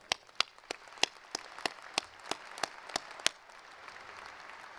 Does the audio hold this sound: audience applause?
yes